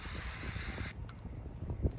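A Plasti Dip aerosol can sprays a steady hiss onto the emblem of a 2019 Chevy Silverado for about a second, then cuts off, leaving quiet handling noises and faint clicks.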